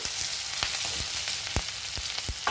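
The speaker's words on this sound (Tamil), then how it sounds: "இது கொஞ்சம் வதங்கட்டும்." Vegetables and green peas sauté in a pan for a Thai-style green curry, a steady close sizzle running throughout with several sharp scraping stirs of a spatula spaced across it.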